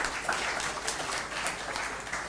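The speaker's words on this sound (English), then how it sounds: "Give a deep round of applause to Mr. Kamar Salam" Conference audience applauding a presenter, a steady dense wash of clapping at moderate level without any talk over it.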